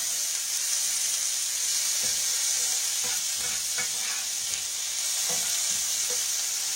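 Almonds fry in hot butter with salt in a pan, giving a steady close sizzle that runs without a break, with soft scraping from stirring at intervals.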